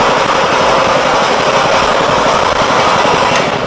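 The engine of a 4GL 120 A1 reaper runs steadily while the machine reverses, giving a loud, constant mechanical drone throughout.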